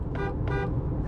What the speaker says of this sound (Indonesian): Yang pertama adalah klaksonnya.